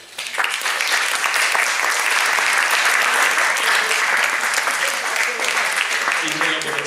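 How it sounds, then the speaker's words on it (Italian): Sustained, dense applause from an audience at a piano prize ceremony, steady and full for the whole stretch, with faint voices mixed underneath. "da Anna Maria Martinelli Cafaro, che io vorrei salutare con un applauso"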